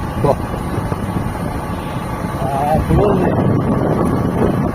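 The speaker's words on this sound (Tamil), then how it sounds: "அருமையான காத்துங்க அப்படியா குற்றால சீசன்ல அப்படி போற மாதிரி இருக்கு கூலா இருக்கு காத்து அருமையா இருக்கு" Steady wind rushes and buffets against the microphone outdoors in rural Tamil Nadu near palm trees, a continuous broadband roar that swells slightly toward the end, with faint voices underneath.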